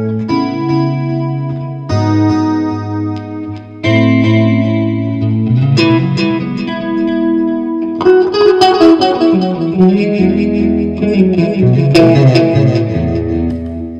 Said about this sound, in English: if we do the chorus and the delay and the reverb